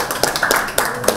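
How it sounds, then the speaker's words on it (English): A few people at an art demonstration clap briefly and unevenly, close by, in a short burst of scattered hand claps. "Round of applause"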